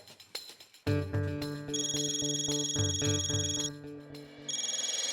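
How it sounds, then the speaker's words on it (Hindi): A melodic electronic ringtone plays loudly and continuously close by, a repeating tune with layered tones, no voices. "तेरा फोन बज रहा है"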